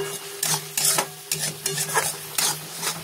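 Boal fish curry with ground garam masala stir-fried in a pan, quick rhythmic scraping strokes of a spatula over a sizzling base, close and busy with no talking.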